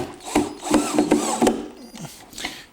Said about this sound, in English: I'm going to take the drill and put a number 8 coarse pocket hole screw in here